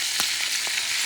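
Whole pompano fish frying in a pan, a loud, close, steady hiss of hot oil with a couple of faint pops, no voices.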